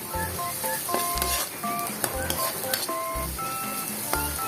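Corned beef sizzles in a hot pan while being stirred, a steady frying crackle with soft scraping at a close distance, broken by repeated low thumps and a few faint tones in the background.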